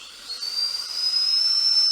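A person imitates a boiling teapot's whistle with their voice, a thin, rising, sustained whistle with airy hiss that holds steady for about two seconds.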